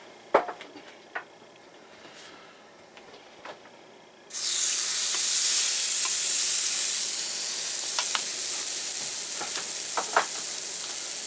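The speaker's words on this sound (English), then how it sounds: "spray your paddles down with a little bit of canola oil" Canola oil sprayed onto cast iron waffle iron paddles: a few soft clicks and taps, then an abrupt, loud, continuous hiss that holds steady for several seconds up close.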